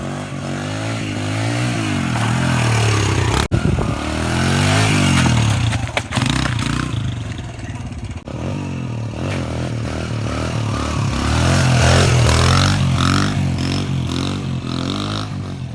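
Pit bike dirt bike riding around a backyard track, its small engine buzzing and revving loudly and continuously with rising and falling pitch as it accelerates through turns, with occasional clattering.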